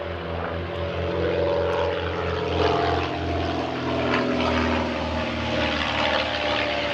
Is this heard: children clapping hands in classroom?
no